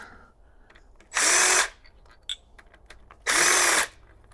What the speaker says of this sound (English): Well, let me use my impact.